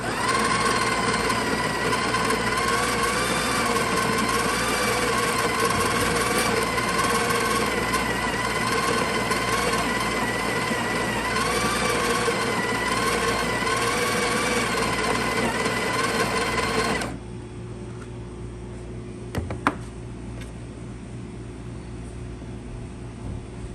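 A Breville coffee grinder grinds roasted coffee beans in a steady, loud, dense whir for about seventeen seconds, then stops abruptly, leaving a faint low hum and a couple of small clicks.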